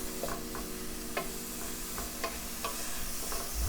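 Finely diced carrots with a pinch of salt sautéing in a pan, giving a steady low sizzle with occasional soft scraping taps from stirring, close and moderately quiet.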